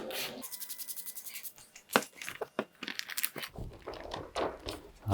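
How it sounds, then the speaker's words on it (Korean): Paint protection film is peeled from a Tesla Model Y and folded over on itself, making quiet close crinkling and rubbing. Rapid tearing bursts are followed by irregular crackles and rustles, with no talk. "이제 아래쪽에서 위쪽으로 필름 뗄 겁니다. 쭉 떼서 접어줍니다."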